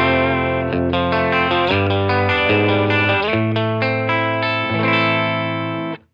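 An electric guitar plays through a Line 6 Catalyst 60 amplifier in boutique mode at low gain, giving clear, slightly gritty chords and single notes with a chorus-like shimmer, loud and alone before ringing out.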